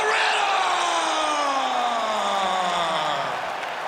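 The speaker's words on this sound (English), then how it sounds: "you can hear the crowd response with everything that this man does" Arena crowd in the UFC 5 video game roaring steadily before a bout between Khamzat Chimaev and Reinier de Ridder, a loud, continuous wash of cheering with a falling tonal sweep running beneath it.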